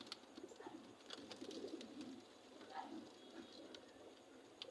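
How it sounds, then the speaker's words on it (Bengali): Soft cooing of pigeons in a loft, low murmuring calls repeating irregularly, quiet and close, mixed with light clicks and rustles. "আরো কবুতর আছে, দেখাচ্ছি আপনাদের"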